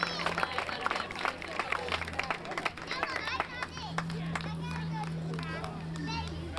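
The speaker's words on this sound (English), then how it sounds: "Nice round of applause for Jimmy." Outdoors after a 5K running race, a crowd claps for the overall men's division winner, light scattered applause mixed with children's voices and chatter.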